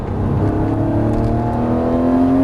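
A Lamborghini Murciélago on the Las Vegas Motor Speedway track accelerates out of a turn, its engine note holding a loud, rising, continuous drone heard from inside the car.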